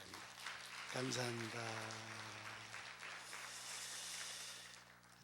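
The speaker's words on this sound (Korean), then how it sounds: "우리 곁에 계셔 주셔서 감사해요 하고 박수 한번 쳐주시기 바랍니다" A church congregation at a Sunday service claps for its elderly members over eighty, a steady wash of applause that swells near the start and continues beneath a voice giving thanks.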